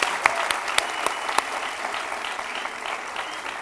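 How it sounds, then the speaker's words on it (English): Audience applause at a film promotion event, a steady wash of clapping from a crowd with a few sharper individual claps standing out near the start, moderately loud and continuous throughout. "Round of applause, folks."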